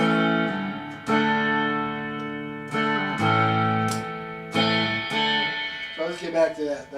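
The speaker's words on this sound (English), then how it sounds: "That's where the reverb's happening. So this is the 64 reverb unit." Guitar through a 1964 Fender reverb unit, a few plucked chords and notes ringing with a wet, splashy tail, played up close and fairly loud.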